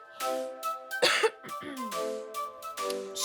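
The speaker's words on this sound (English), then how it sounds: "So let's take our COVID cough break" A person coughs several times in quick bursts, close and loud, with throat clearing between, over a musical background with steady tonal notes.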